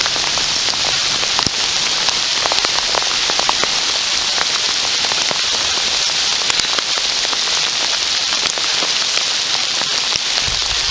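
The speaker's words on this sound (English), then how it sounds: "It's raining, and the beavers are happy." Steady rain falls through an aspen forest, a dense, even patter of drops on leaves and ground that carries on without pause for the whole stretch, with no voices.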